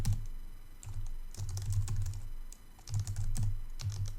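Bursts of typing on a computer keyboard, clustered keystrokes in quick runs with short pauses, close and fairly clear with no talk.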